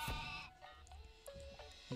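A goat bleats briefly in the Propnight video game, a short nasal cry followed by faint, thin game sounds, quiet overall with no talking.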